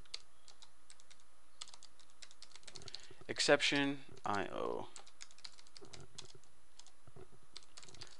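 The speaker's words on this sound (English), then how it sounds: "I hate typing this freaking catch stuff" Steady clicking of keys on a computer keyboard, quiet and close, with a brief spoken phrase partway through.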